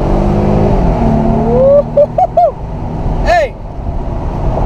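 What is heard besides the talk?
Mercedes CLK convertible accelerating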